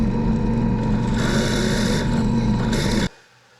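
A drill bores long dowel holes through wood guided by a doweling jig, a steady close whirring grind that swells partway through and then cuts off abruptly, leaving quiet.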